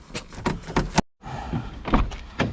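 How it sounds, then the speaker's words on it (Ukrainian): A car door on a vehicle at a dismantling yard clicks and swings open, a few short thumps and latch sounds near the microphone, with a brief silent gap in the middle. "Відкриваємо дверцята."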